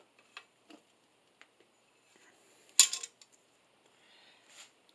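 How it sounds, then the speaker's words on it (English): A wrench tightens a 48-inch steel riser pipe for a pipe floor lamp, giving a few sparse, quiet metallic clicks and one sharper clink in a mostly still room. "Tighten with the wrench."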